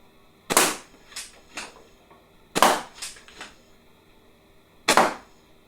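A Talon foam dart blaster fitted with a magwell and stock adaptor fires three sharp, loud shots spaced a couple of seconds apart, each followed by quick clattering smacks as the darts strike.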